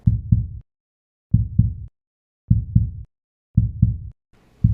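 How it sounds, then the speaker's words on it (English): A heartbeat, a steady lub-dub rhythm of paired low thumps repeating about once a second, loud and close with silence between beats. "They can hear the mother's heartbeat and will hear if it rapidly increases at times of stress."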